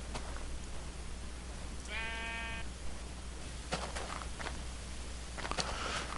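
A sheep in a modded Minecraft game gives a single short, mid-distance bleat over a steady background hum, with a few faint footstep-like taps afterward.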